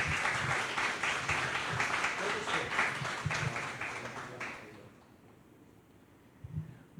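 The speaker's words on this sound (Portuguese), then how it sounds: "eu convido você a dar uma salva de palmas para Jesus" Audience applause fills a church conference hall, dense clapping that holds steady for about four and a half seconds and then fades to quiet room tone, with a faint thump near the end.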